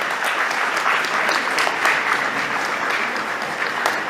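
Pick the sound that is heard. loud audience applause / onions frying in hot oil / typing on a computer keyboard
loud audience applause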